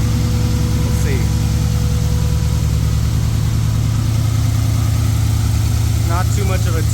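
An LS1 V8 engine idles steadily up close with a rapid mechanical ticking riding over its low, even rumble, while a person talks over it.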